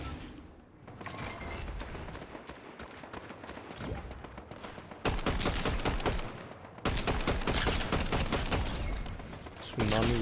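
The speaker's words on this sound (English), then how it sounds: "Some shooting over by the jump pad." Dense gunfire in the Fortnite video game, a Zero Build match: rapid bursts and volleys of shots rattle almost continuously, growing heavier and louder midway, with brief pauses between volleys.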